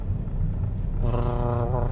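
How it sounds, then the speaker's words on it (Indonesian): A car's air conditioner blows inside the cabin on a hot afternoon as a steady, close whooshing rush, with a faint tonal hum joining partway through. "Ini kayaknya akan berisik suara AC gak sih?"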